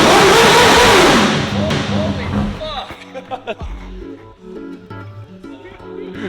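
A car engine revs hard and loud at the start, then drops back to a lower, uneven rumble with short blips, like idling with light throttle stabs nearby.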